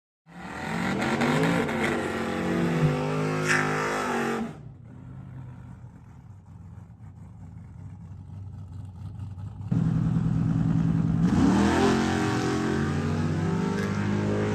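A 1968 Ford Mustang revs hard at the line on a drag strip, loud engine roar with rising pitch, a quieter lull in the middle, then a second loud burst of revving as it launches.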